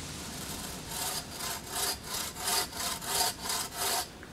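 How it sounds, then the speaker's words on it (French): A hand saw cutting a piece of wood on a workbench, close and alone, with about eight steady rasping strokes in an even back-and-forth rhythm. "Je scie alors à environ 5 à 10 mm à l'intérieur de mon trait de scie"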